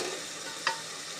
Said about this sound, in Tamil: இந்த மசாலாவை கிளறி விடுங்க